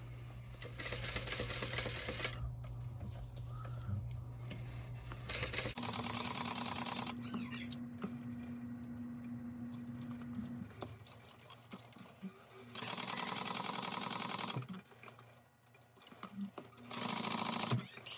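A sewing machine back stitches fabric in several short bursts of rapid mechanical whirring, separated by quieter pauses with handling noise, close and clear, with no talking.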